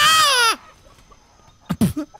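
An alpha chicken in the video game Atlas lets out a long, loud squawk, followed by a few short, sharp clucks after a pause.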